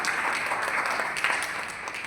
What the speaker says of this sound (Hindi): उनके लिए मैं जोरदार तालियां करता हूं सारे लीडरों के लिए।